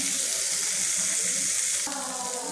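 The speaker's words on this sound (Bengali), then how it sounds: "মাশরুমগুলো দেওয়ার পরে কিছুক্ষণ নাড়াচাড়া করে নেব" Boiled mushrooms are stirred in a hot pan with fried spice paste. The sizzle is steady and close and fills the short stretch, with a slight change in texture near the end.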